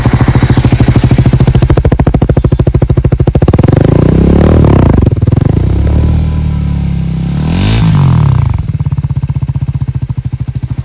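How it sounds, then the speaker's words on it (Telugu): A Triumph Tracker 400 motorcycle's exhaust note, loud and close, with a steady idle throb broken by several sharp revs that rise and fall, ending in a rough idle. "సో లాస్ట్కి ఎగ్జాస్ట్ నోట్ కూడా వినిపిస్తా"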